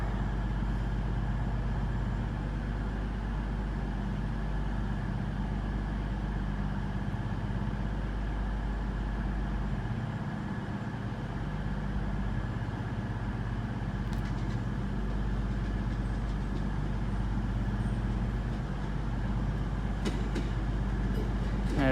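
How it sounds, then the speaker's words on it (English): A double-unit Class 150 diesel train arriving at Exeter St David's station on a Saturday evening, a steady low engine rumble and rolling drone sustained throughout, with faint station background. "we got a Great Eastern Railway service to Exeter now coming in"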